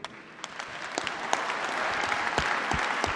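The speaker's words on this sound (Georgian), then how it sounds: "ზურაბიშვილის სიტყვით გამოსვლა შეკრებილები ტაშით შეხვდნენ" A gathered crowd applauds Salome Zurabishvili's speech, with dense clapping that swells and holds steady, close and fairly loud.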